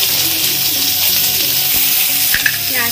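Steady, loud sizzling of onions frying in hot oil for chilli paneer, with a few soft stirring clinks near the end.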